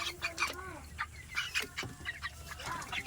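Chickens clucking and calling in short bursts, with some background chatter and farmyard noise mixed in.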